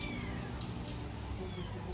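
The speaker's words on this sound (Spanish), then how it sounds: "esos son los gatitos que están ahí alborotados" Agitated kittens meow in a noisy background, faint high cries repeating under a steady broadband hiss and low rumble, with a voice faintly audible.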